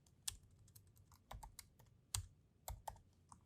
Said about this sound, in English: Again, I'm having trouble typing today.